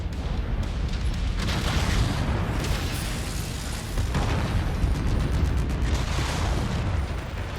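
Booming explosions in the video game Mechwarrior 5 as a mech's reactor goes critical and blows apart, dense continuous rumbling blasts amid battle noise.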